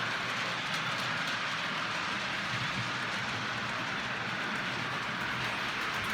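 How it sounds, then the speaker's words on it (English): Model railway freight train hauling empty coke wagons, a steady rushing rumble with faint clickety-clack, continuous and fairly quiet with no voices. "We've got a freight train with some empty coke wagons."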